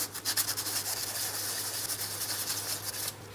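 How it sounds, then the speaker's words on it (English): Sandpaper rubs steadily along the metal mounting base of a downstream O2 sensor port on a 2003-2007 Cadillac CTS 3.6L V6, a continuous close scratchy hiss lasting a few seconds with a low steady hum underneath. "We're going to use a piece of sandpaper along the base"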